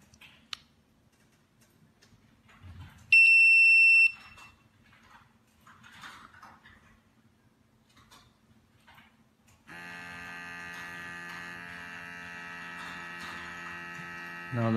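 Portable SKZ1050-O2 oxygen gas detector powering on, with a brief beep and faint clicks followed by a steady electronic tone as it warms up, close and alone in a quiet room.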